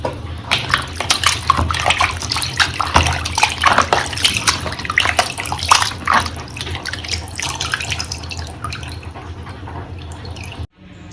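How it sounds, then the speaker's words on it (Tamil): Chicken liver is washed in water, with running water splashing and dripping up close. The sound is steady and fairly loud, with no one speaking. "ஈரலை நல்லா வாஷ் பண்ணி எடுத்தாச்சு"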